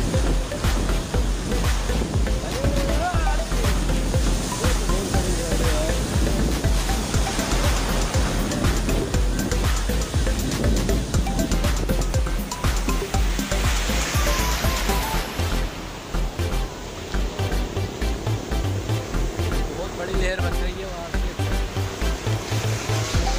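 Sea waves at Turtle Beach, Karachi, breaking and washing close and loud in a continuous roar of surf and churning water that eases slightly toward the end.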